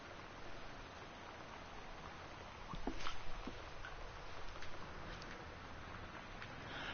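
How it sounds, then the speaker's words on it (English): Steady hiss of torrential rain in the game Gone Home, a continuous wash of downpour with faint patter and a few soft knocks, brief swell in the middle. "high winds and torrential rain conditions"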